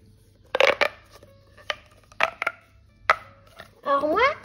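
A fidget toy clicks and gets squeezed in short, separate snaps and crunches, close up and fairly quiet, ending with a brief squeaky rubbing burst.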